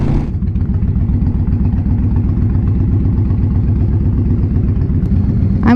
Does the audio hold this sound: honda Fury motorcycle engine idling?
yes